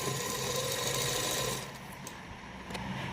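A sewing machine stitches the seams of trouser hems (ponche) in a steady, close whir that runs loudly for about a second and a half, then drops to a quieter mechanical hum.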